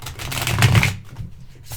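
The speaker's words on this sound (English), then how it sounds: "So riffle shuffling, very, very, very easy." A Steampunk Tarot deck is riffle shuffled close up, producing a loud, fluttering burst of card riffling that peaks and then stops abruptly, with faint handling noise after.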